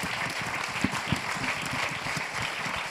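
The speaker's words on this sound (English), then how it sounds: "can we give a round of applause to the people who put their stuff up?" An audience at a music listening panel claps steadily, a dense wash of many hands applauding together at moderate volume, with no voices standing out.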